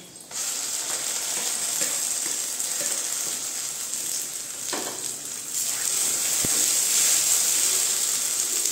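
Pointed gourd paste with onions sizzles in a pan, a continuous close hiss that grows slightly louder in the second half, with an occasional faint scrape or tap of a utensil.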